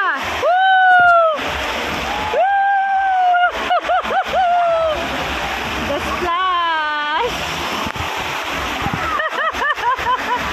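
Water splashes and pours continuously in the rain dance section of a water park, a loud steady wash of spray under people talking and shouting, with voices rising and falling over it throughout.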